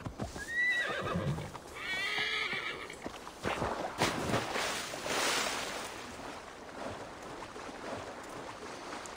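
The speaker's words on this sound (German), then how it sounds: "weil ich habe ja ein Pferd, das schwimmen kann." In Assassin's Creed Valhalla, a horse neighs and whinnies near the start, followed by hoof clip-clops and splashy swimming movement that fades into a steady, softer background.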